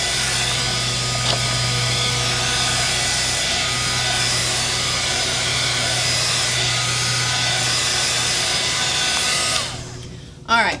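A heat gun blows loud and steady for about ten seconds while drying painted paper for handmade journals, with a low hum beneath it and a lawnmower outside, then cuts off abruptly near the end.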